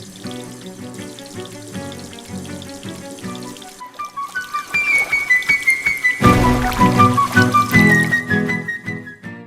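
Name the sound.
cold water pouring to rinse dirt off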